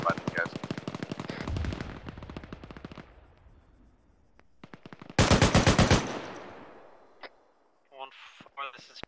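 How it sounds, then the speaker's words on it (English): Bursts of automatic gunfire from the ArmA 3 video game fire on a squad: a long rattling volley, a pause with scattered shots, then another loud close burst, followed by brief radio-style voices. "Getting shot at by the guys."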